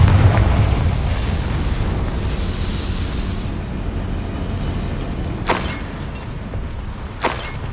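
Explosive spell blasts from Bombarda and Confringo in the Hogwarts Legacy video game: a dense rumbling roar at the start fading into a low sustained din, then two short sharp bursts near the end.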